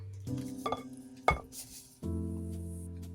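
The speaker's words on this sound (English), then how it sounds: "Give it a good mixing so the sugar can dissolve." A spoon clinks against a bowl while sugar, apricot jam, grated ginger and mixed fruits with cherries are stirred together, a few sharp taps over a steady low hum, close up.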